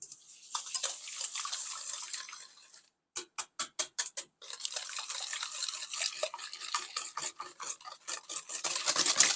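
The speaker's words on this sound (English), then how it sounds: "So now I'm just gonna whisk this together." Two eggs whisked in a bowl for carrot cake cupcakes, a soft rasping swirl followed by a fast series of rhythmic clicking beats of the whisk against the bowl, fairly close.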